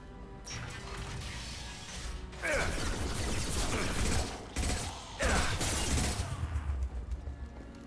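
Heavy metal shutters grind and clank shut in the video game Mass Effect 2, with loud mechanical rumbling and ratcheting in several surges and sharp impacts, over a steady background hum.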